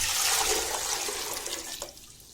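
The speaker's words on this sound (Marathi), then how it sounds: "त्यामध्ये आपण जेवढ्या भांड्याभर चीक भरलेला होता तेवढ्याच भांड्याभर आपण पाणी घालायचं" Water pours steadily into a cooking pot set on a gas stove, a continuous splashing rush that tapers off near the end, with no voices.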